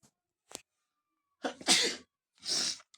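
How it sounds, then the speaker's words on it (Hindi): A person coughs in short bursts: a brief sharp cough, then two louder, harsher explosive coughs separated by silence, close to the microphone, during a math lesson. "खांसी भी हो गया ना"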